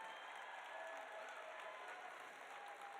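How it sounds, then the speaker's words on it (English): A crowd applauds steadily at a university winter carnival event, dense, even clapping from many hands filling the space without a break. "Please give these fellows a round of applause."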